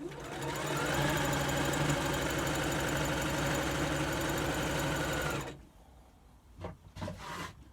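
A sewing machine runs a steady, loud continuous stitch along a quilt seam for a Log Cabin block, humming and clattering for about five seconds before stopping abruptly, followed by faint handling noises.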